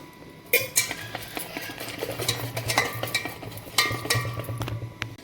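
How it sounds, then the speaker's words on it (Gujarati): Eno being stirred vigorously into dhokla batter with a spoon in a metal vessel, a steady scraping, clinking rhythm that runs continuously at close range with no talking. "હવે તેમાં આપણે ઈનો નાખી દઈશું. ઈનો અને પ્રોપર મિક્સ કરી દઈશું."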